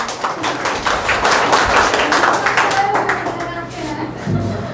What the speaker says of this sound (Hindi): ताली बजाने का एक और तरीका है